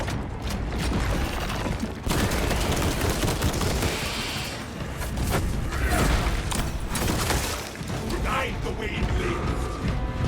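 Rapid bursts of gunfire fill a Space Marine video game battle, loud and close, with a magazine swap mixed into dense combat noise and booms.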